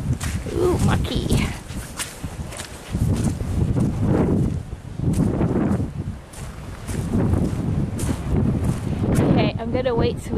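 Strong wind roaring over a microphone on a rugged ocean shore near a lighthouse, with gusts rising and falling continuously and a faint background wash of crashing waves.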